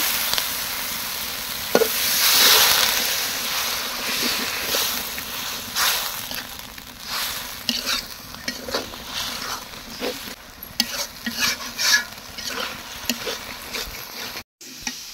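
A wet paste of ground cumin, garam masala, garlic, ginger, chilli, turmeric and salt with water sizzles in a pan under repeated scraping stirs, with irregular clinks and bursts of spattering over a steady hiss.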